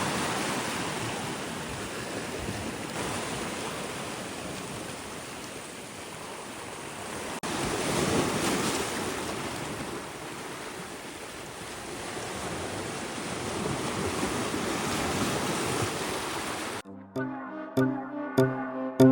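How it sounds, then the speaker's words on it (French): Ocean waves wash in a continuous roar of surf with gentle swells in loudness, mixed with some wind buffeting, before giving way to a brief burst of music at the end. "Donc je vais vous laisser avec le bruit des vagues."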